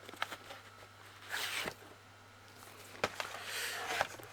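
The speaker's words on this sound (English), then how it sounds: "Oh, this actually has a plastic lined pull tab." Plastic-lined pull tab torn open along a cardboard package in two quick ripping bursts, close and fairly loud, with quiet handling between them.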